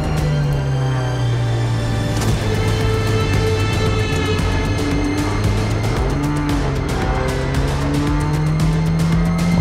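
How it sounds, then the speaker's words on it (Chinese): A race car on a rain-soaked circuit brakes hard and slides through standing water, its engine droning loudly with shifting pitch while tires hiss and squeal across the wet track, with no voices. "刚超越我的六号车也在积水区爆时刹车滑出赛道"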